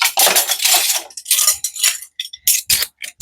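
Dishes and cutlery being dried and handled at a home kitchen sink, giving a run of clinks and clatters in uneven bursts with brief pauses, close by and fairly loud, no talking.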